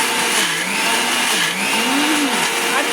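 A mixer grinder blending mint and coriander chutney, a loud continuous motor whine with shifting pitch as the jar churns, close and steady throughout.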